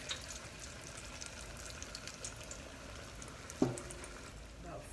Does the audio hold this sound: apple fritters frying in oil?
yes